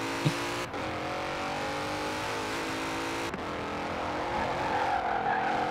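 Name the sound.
sports car driving over rough road in Forza Horizon 4 video game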